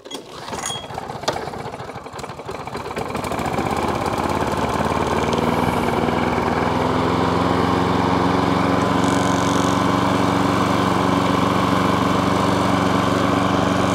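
A lawn mower engine on choke catches after a few rough pulls and sputters, then settles into a loud, steady, close-up running drone that lasts to the end.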